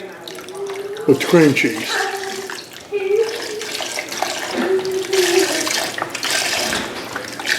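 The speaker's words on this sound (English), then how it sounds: "let's get this chicken broth in there" Chicken broth poured into a pot for a Cajun keto stew, a steady liquid splashing and gurgling running for several seconds, close up, with a person talking over it.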